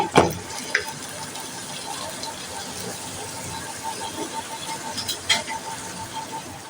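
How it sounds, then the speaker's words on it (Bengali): Water is poured into a hot pan of ginger paste, giving a steady hiss and sizzle with occasional stirring clinks and knocks, close by and moderately loud. "এবার একটু জল দেব, জল দিয়ে এটাকে একটু কষাবো।"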